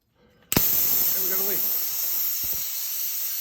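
Compressed air hisses steadily from the pistol grip of a First Strike T15 paintball marker after a grip swap, a sudden loud burst that settles into a continuous leak, with brief faint talk near the start.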